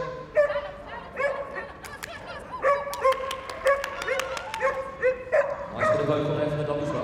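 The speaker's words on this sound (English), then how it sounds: "Nice bit of vocal there from the dog as well." Dog at the Crufts international agility jumping event gives short, repeated yips and barks, fairly close, mixed in with arena noise and a commentator talking over it.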